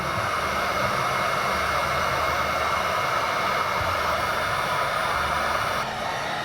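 A heat gun blows a steady, even hiss of hot air while warming decal corners on a Ducati Desert X motorcycle, running continuously and close by with no talk.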